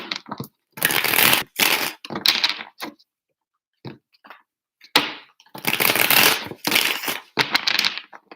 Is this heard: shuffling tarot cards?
yes